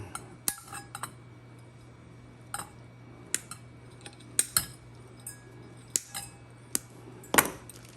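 Wires are cut on a ceiling fan being torn down: a series of sharp, scattered metallic snips and clinks, close and fairly faint over a low steady hum, with no talking.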